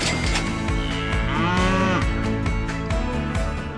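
A cow at a Quebec livestock auction gives one long, loud moo that rises and falls, close by and clear, with no voices over it.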